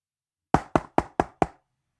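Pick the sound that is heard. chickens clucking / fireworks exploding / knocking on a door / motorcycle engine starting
knocking on a door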